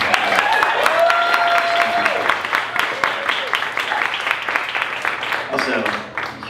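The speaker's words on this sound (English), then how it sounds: "let's give another round of applause for our first two speakers" Audience applause for the first two speakers at a Sunday Service performance show, dense clapping over a steady crowd wash with whoops and cheering voices mixed in, holding for several seconds before thinning near the end.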